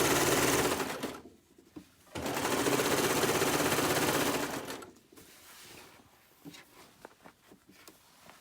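A sewing machine stitches fabric in two fast, steady runs of close mechanical clatter, each lasting a second or a few seconds, followed by quieter handling clicks.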